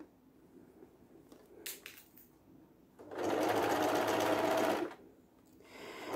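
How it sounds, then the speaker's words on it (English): A sewing machine stitching a new waistband onto a skirt, running in one steady, fast whirring burst of under two seconds after a few quiet handling clicks, then stopping. "this is how I do my sewing."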